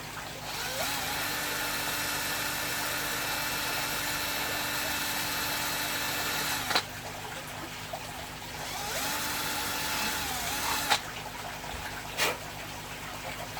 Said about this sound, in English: now what we've got to do is drill 2 holes in this lid